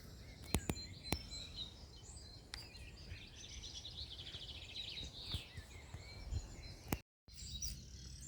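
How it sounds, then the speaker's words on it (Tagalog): Birds chirp and call intermittently outdoors in Dublin, Ireland, with sharp tweets and faint song scattered over a low, steady background hum. "Huni ng ibon."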